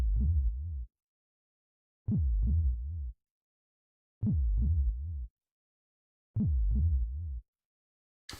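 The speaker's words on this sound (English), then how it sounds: "This is not the most pleasant heartbeat sound to have pulsing gently in my ear." A muffled heartbeat effect from the Breath of Fire II video game thumps in four evenly spaced double-beat bursts, with silence between each pulse.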